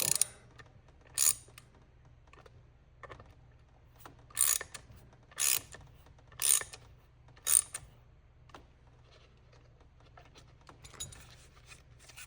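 Short ratchet-like rasping bursts as screws are tightened on a DeWalt DWE6423 orbital sander, six close, distinct strokes in the first half, then quieter handling, with no voices.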